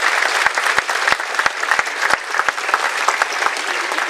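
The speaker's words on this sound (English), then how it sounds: "please, for a round of applause?" Steady applause from a crowd at a college commencement ceremony, dense clapping with sharp individual claps standing out, continuous for a few seconds without talk.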